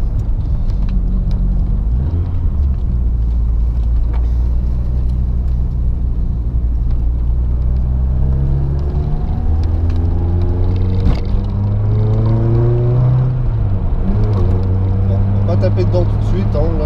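A 1991 Renault Clio 16S engine warms up on the move, a loud low drone with gentle rises and falls in revs, while a person talks over it.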